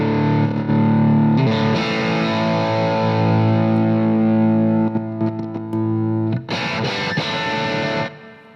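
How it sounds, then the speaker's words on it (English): Guitar amplifier with a patch cable run from the effects loop send to return, giving sustained distorted electric guitar chords that ring steadily, then brief choppy strums and a final held chord, loud and close with no voice. "So this is the sound of the effects loop."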